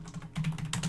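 Computer keyboard keys tapped in quick bursts while router configuration commands are entered for a DMVPN setup, close and fairly soft, with no talk over it.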